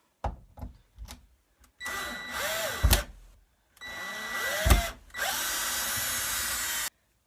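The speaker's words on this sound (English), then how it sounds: "I'm just going to start by unscrewing the things that are screwed into the wall" Power drill unscrews screws from a closet wall: a few quick trigger taps, then several longer whirring runs that rise and fall in pitch with short pauses between them, close by.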